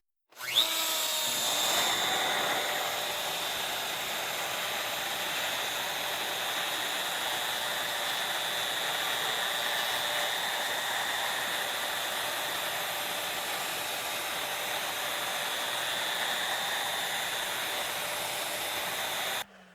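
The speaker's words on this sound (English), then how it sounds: "gradually increasing the depth of the router bit and gradually increasing that radius on the fretboard" Router cutting a radius into an electric guitar fretboard: a steady, loud high-pitched motor whine with a grinding cut that starts abruptly and runs continuously for nearly twenty seconds, then stops.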